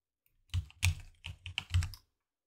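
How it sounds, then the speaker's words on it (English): Quick keyboard and mouse clicks from someone working in the Unreal Engine 5 editor, pressing shift and right-clicking. About half a dozen close, crisp taps land within a second and a half, with no talking. "we can hold down shift and right click on this"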